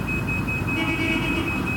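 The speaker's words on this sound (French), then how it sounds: "Il suffit alors de l'éloigner à une distance de 8 mètres et une alarme se déclenche." A smartphone anti-theft alarm, triggered when the phone is moved about 8 metres away, sounds a steady, high-pitched electronic tone continuously over a low rumbling background, unbroken throughout.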